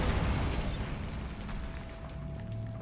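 A spell explosion in Hogwarts Legacy, a loud burst at the start fading into a rumbling tail, with no talking.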